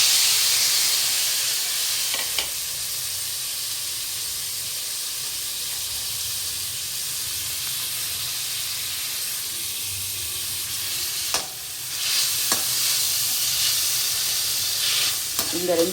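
Cumin seeds, chopped tomato and a large onion fry in a pan for a paneer podimas, giving a steady close sizzle and hiss with occasional stirring scrapes, with no talk.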